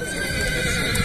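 At a livestock market in At-Bashy, a horse gives a loud, close whinny that carries through a brief stretch amid steady crowd bustle.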